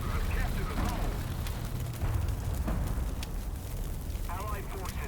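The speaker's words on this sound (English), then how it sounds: "Artillery fire." Artillery shells burst in War Thunder, a steady rumbling barrage of low booms and crackling debris filling the whole stretch, loud and dense with no pauses.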